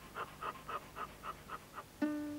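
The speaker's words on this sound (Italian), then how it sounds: "altri mammiferi si rinfrescano respirando affannosamente, così l'umidità presente sulla lingua dà luogo all'evaporazione" A mammal pants rapidly to cool itself, seven or eight rhythmic breathy huffs in a steady pulse, close and moderately loud, followed by a sudden brief tonal sound at the end.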